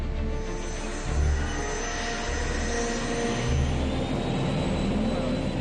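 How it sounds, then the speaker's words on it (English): A Learjet accelerating for takeoff on the runway, its jet engines roaring loudly and steadily with a rising whine throughout and a low rumble beneath. "Paul pushes the throttles forward."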